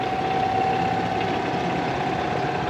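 Steady idle of a two-cylinder Model 70 gas tractor engine at a two-cylinder tractor expo in Lancaster, Ohio: a continuous, loud low rumble with a faint steady hum, running alone.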